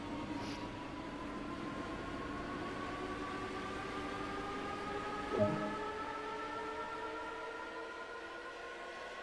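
A train runs in Train Sim World 2 with a steady, droning engine and rail hum and slowly rising tonal whines. A brief clunk sounds partway through.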